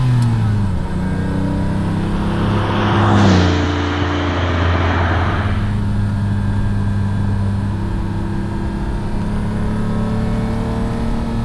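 A Lamborghini Countach engine drones steadily nearby, swelling briefly as it accelerates, then settling into an even cruising hum.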